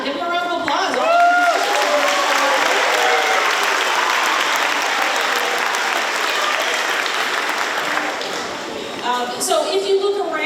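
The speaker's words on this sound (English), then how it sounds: "give them a round of applause" Sustained audience applause fills a school auditorium at a spring concert, steady and loud for about nine seconds before thinning into scattered claps, with brief voices and cheers audible at the start and end.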